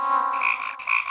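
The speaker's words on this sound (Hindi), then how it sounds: "भागो, मेंढक वापस आ रहा है।" A cartoon frog croaks twice, loud and close, each croak a bright, buzzy, tonal call in an animated Motu Patlu episode, with no speech over it.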